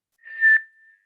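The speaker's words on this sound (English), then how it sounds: "So if I whistle something like an A above middle C or something" A person whistles a single steady pure tone near A above middle C, clear and close, swelling briefly and then fading, alone without speech.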